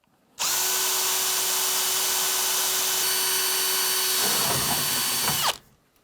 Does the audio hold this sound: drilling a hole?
yes